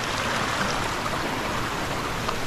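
Steady broadband rush of river water flowing in the woods, continuous and fairly close, with no voices over it.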